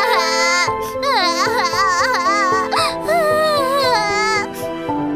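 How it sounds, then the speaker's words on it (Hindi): A baby cries loudly and continuously in a dense forest, a close, wailing cry with rising and falling sobs throughout, heard alone without talk. "घने जंगल में बच्चे की रोने की आवाज सुनी।"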